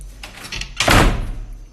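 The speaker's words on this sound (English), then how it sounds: "I'm about to close this door." A door swung shut indoors, with a few soft rattles and then a firm slam and short trailing rumble, close and alone.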